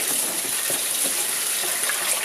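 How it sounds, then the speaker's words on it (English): Steady tap water gushes into and splashes around a mixing bowl as it is rinsed out in a home kitchen after bread making, a continuous close rushing sound. "I'm just going to quickly wash the bowl out"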